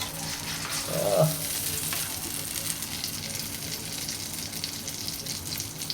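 A paratha fries in ghee in a pan with a constant soft sizzle, a brief clunk of a utensil early on, and otherwise an even background crackle.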